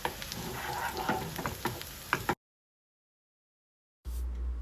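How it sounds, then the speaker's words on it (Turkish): Chopped dry onion sizzles in a little oil in a pan, a close crackling fry with sharp pops and stirring scrapes, broken by a stretch of silence before the sizzle returns. "Az bir sıvı yağ ile soteliyorum kokusu çıkana kadar."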